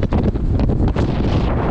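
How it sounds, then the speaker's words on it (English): Strong wind on a fell summit above Wastwater in the Lake District, buffeting the microphone in a loud, steady, low roar with gusty swells and no speech. "Listen to this wind."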